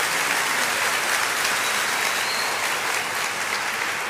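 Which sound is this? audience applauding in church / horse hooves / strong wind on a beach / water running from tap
audience applauding in church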